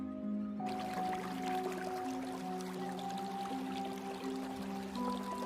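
Water pours from a clay pot in a steady, gurgling stream with drips, heard up close under a soft sustained musical drone.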